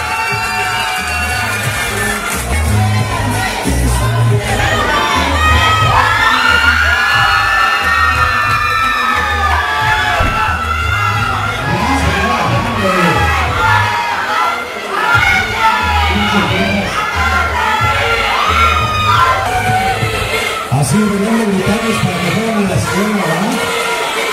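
A wrestling arena crowd applauds and cheers for the wrestlers, a loud, continuous roar of clapping, whoops and yells, with a voice shouting over it.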